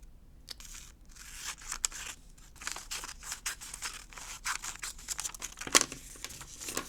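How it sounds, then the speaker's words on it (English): Scissors trimming excess tape off a handmade paper label, a scatter of short crisp snips and crinkles over several seconds, close and irregular, with one sharper cut near the end. "Then I'm gonna cut this extra bit off."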